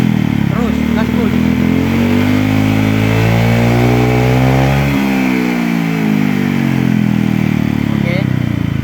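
A Honda PCX 150/160 scooter engine is revved at full throttle, loud and close. Its pitch climbs, falls back and rises again while a voice talks over the engine noise.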